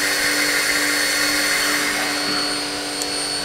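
Haas TM-2P CNC toolroom milling machine running with no load: a loud, steady mechanical whine and hum with a sustained tonal pitch, close by and continuous, with no talking.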